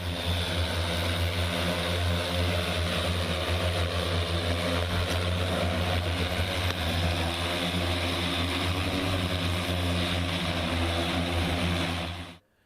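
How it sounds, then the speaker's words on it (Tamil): A man-carrying drone built by a 12th-grade student flies with a loud, steady droning whir of its rotors, holding constant for about twelve seconds before cutting off abruptly at the end. "12ஆம் வகுப்பு மாணவர் வேதன்ஷ் திரிவேதி மனிதர்கள் அமர்ந்து பறக்கக்கூடிய ட்ரோனை உருவாக்கி சாதனை படைத்துள்ளார்."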